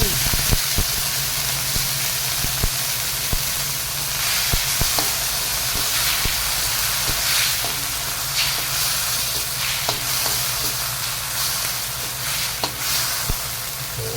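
Vegetables sautéing in a pan at home, a steady loud sizzle and hiss running throughout, broken by sharp clicks and scrapes of stirring, with no one talking.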